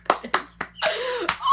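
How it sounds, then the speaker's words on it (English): A few sharp hand claps, around four separate slaps spaced irregularly, come from a lone person indoors, close and fairly quiet, mixed with brief vocal sounds between them. "Let's have a round of applause for that."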